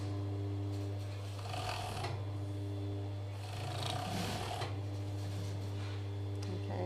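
An overlocker sewing machine stitching the side seams of a T-shirt gives a steady, close mechanical whirr over a low motor hum, running continuously with slight swells and no talking.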